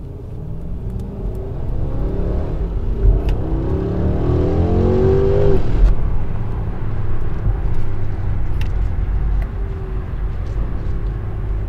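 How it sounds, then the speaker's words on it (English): A 2022 Mercedes-Benz S580 4MATIC in Sport Plus mode revs its engine, the tone rising and climbing for a few seconds before settling back to a steady, loud cabin rumble. "the engine note is significantly louder, but I'm betting that it's mostly piped into the cabin through speakers"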